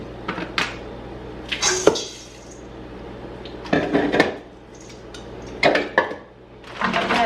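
A mixing bowl handled in a kitchen, giving several short bursts of clattering and clinking cookware separated by quiet gaps, close and fairly loud.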